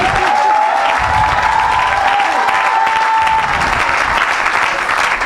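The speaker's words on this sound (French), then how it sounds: "Acclame pour la grâce." A church congregation applauds at an evangelist's service, giving a loud, sustained wash of clapping from a large crowd that continues steadily throughout, with a voice calling out over it.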